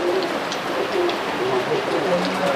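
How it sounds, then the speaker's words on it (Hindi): Soft, repeated low coos from pigeons nearby, a steady rhythmic calling over a constant background hiss. "बॉर्डर वाले कबूतर। ये तेज आँख के कबूतर है।"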